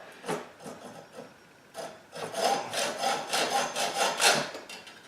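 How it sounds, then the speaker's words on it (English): Hacksaw cutting through a soft iron rivet stub on a handmade garden tool, a series of rasping back-and-forth strokes that grow steadier and denser, close and moderately loud with no talking. "I usually just use my hacksaw"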